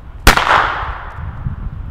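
A red Weco firecracker with a grey fuse explodes in one sharp, loud bang, followed by a decaying rumble and crackle in open air.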